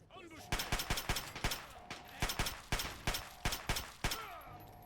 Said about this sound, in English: We're gonna come over here and use our pistol for the first time.